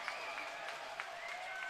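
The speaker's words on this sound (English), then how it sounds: "Excited bench, excited crowds," Crowd at a school basketball league final applauding and cheering in a gym, a steady faint wash of clapping with a few sharper shouts.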